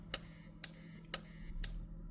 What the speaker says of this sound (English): it's letting me know the alarm's gone off when I've disarmed it.